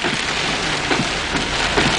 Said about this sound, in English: Now we got some rain.